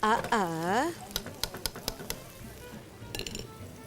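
A voice speaks briefly, then a spoon scrapes and clinks against a pan in a run of sharp taps over a soft sizzle of boiled bottle gourd frying.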